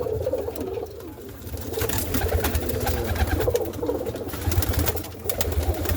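Roller pigeons cooing in a loft in the dark, with close, repeated low coos over faint rustling and flutter throughout.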